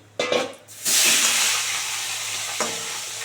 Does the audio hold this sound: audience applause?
no